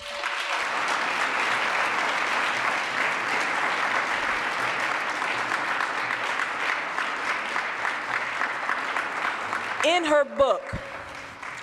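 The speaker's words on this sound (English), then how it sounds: "Applause, please." Applause from a keynote audience at a social justice institute think tank fills most of the stretch, steady and full, then dies away as a voice begins speaking at the end.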